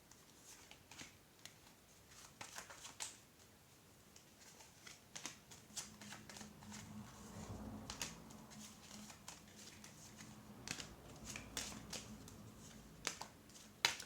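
Playing cards are shuffled during a card reading, giving quick riffling patters and soft snaps in irregular bursts, close but faint.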